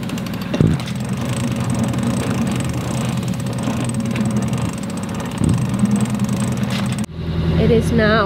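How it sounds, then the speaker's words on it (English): A sailboat's inboard motor runs offshore in a big swell, a steady mechanical drone that holds throughout, with a brief thump near the start and a change in tone near the end. "So we decided to put the motor on for a bit."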